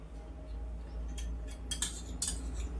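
Metal lid lifted off a pan of bread frying on low heat: a few short, bright clinks and scrapes rise over a steady low kitchen hum.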